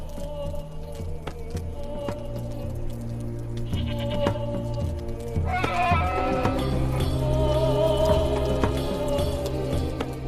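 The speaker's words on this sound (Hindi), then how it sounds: "हारून दो बकरियों के साथ खड़ा है, एक दाईं तरफ और दूसरी बाईं तरफ।" Two goats bleating close by, standing for slaughter, with repeated bleats over a steady layered background of animal sounds and musical drone that grows louder midway.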